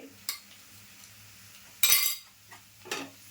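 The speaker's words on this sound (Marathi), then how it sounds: "आता मी आलं लसूण पेस्ट टाकते." A spoonful of freshly made ginger-garlic paste goes into a pan of softened onions: a few light spoon clinks against the pan, then a short, bright burst of sizzle and scraping.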